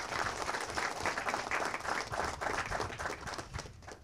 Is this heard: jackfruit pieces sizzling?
no